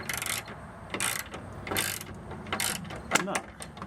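A nut on a 1992 Oldsmobile Toronado Trofeo headlight door is turned with needle nose pliers, giving a series of quiet, close metallic ratcheting clicks in short bursts with pauses between them.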